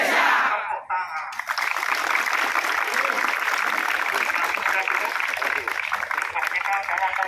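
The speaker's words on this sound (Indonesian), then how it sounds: "Tepuk tangan." A crowd claps in a continuous, dense, fairly loud wash of applause after a group chant in Indonesia, holding steady for several seconds with a brief dip near the start.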